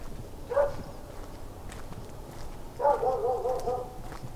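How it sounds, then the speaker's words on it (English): Dogs barking outdoors at a distance, a short bark or yelp followed a couple of seconds later by a longer string of barks and howl-like calls, set against steady outdoor background noise with machinery nearby. "Dogs are barking."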